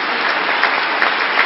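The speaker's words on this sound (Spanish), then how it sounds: "Rectora, le damos un aplauso" Brief burst of steady, close audience applause for the rector at a Universidad de Pamplona gathering, even clapping throughout with no talk.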